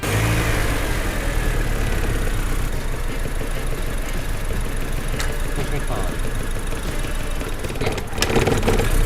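A Honda Civic FD engine runs loudly close by after an ignition coil swap, idling roughly with a steady rumble and a few revs, while people talk over it.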